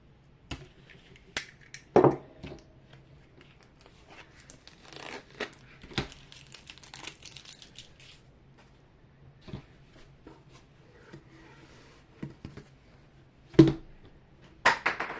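Tape peels and crinkles off a rolled diamond painting wrapped on foam, in scattered sharp crackles and snaps between quieter rustling, close and fairly loud at moments.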